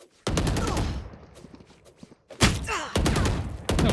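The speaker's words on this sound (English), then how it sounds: "Wall bang मार रहा मुझे।" Gunfire in the Valorant video game wallbanging through a wall: sharp, loud rapid bursts of shots in two clusters separated by a brief quieter gap with faint thuds.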